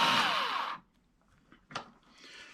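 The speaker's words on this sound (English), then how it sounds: "just do a good trim with the powered trim attachment that I have." A powered trimmer cuts a brass rifle case: a short, close, high whirring burst that stops abruptly, followed by quiet clicks and faint handling noise.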